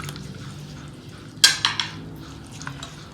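Jeera rice mashed with a spoonful of ghee in a pot, a low soft churn broken by a sharp metallic clank and a couple of quicker clinks of utensil against the pot.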